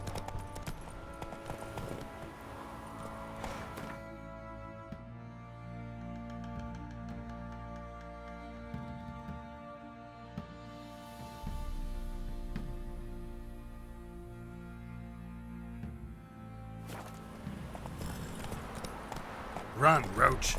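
Roach, Geralt's horse in The Witcher 3, moves with rhythmic hoofbeats under a loud, steady bed of orchestral music, and voices can be heard at times.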